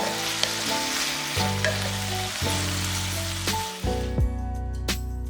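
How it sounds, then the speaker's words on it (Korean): Cucumber and beef stir-fry sizzles in a pan, a steady crackling hiss with brief stirring scrapes, playing under soft background music. "볶은 오이 넣고 1분 정도 볶고 불을 꺼줬다"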